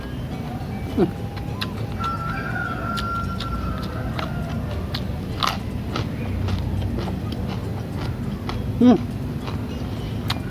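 Crisp crunching bites into a fresh papaya stem picked from a garden, several sharp close snaps at irregular intervals over a low background hum, with no talking.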